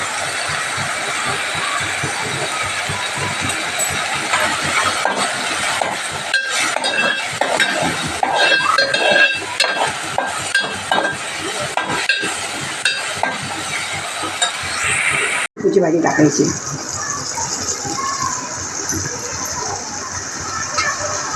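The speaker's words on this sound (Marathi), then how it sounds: "भाजी थोडी हलवून घ्यायची" Dill leaf bhaji stirred in a pan over heat: loud, continuous scraping and frying sizzle with clinks of the spoon, then an abrupt cut to a steadier hiss.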